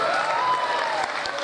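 Applause from the audience at the Music Khabar Award 2013 ceremony, a loud, steady wash of many hands clapping, with a faint murmur of the crowd underneath.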